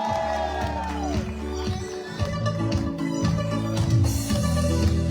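Crowd at a municipal election campaign conference in Sainte-Marie cheering, whooping and applauding loudly and continuously, with shouts rising over a dense wash of clapping and music-like tones underneath.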